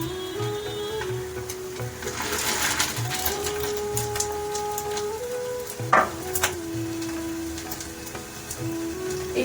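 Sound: fish roe fritters frying in oil

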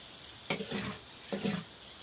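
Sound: stir-frying egg with pork belly in a wok

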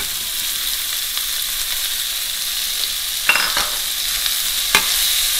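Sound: garlic, ginger, cumin and onion frying in a pan

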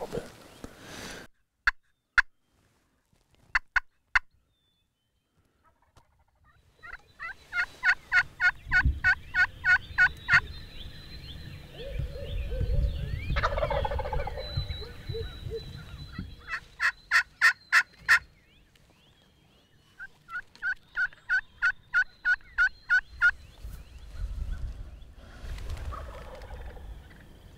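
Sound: wild turkey hens calling and gobbling in a field

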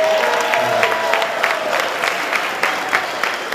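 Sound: audience applause

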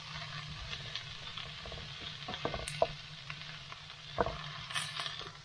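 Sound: meatballs frying and cooking in a pan

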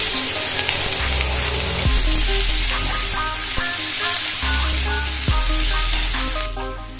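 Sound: frying and stirring chopped onions in pan

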